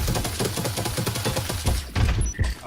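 Video-game gunfire shooting through walls, a rapid run of loud thudding shots in quick succession followed by a few heavier bursts and sharp metallic pings near the end.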